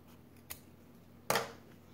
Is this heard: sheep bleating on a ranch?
no